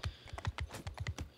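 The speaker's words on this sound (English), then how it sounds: "if the game sounds like the horse's hooves and" Steady clip-clop of horse hooves in a video game, a regular trotting rhythm of about ten close, moderately loud hoof strikes over faint background noise, with no voices.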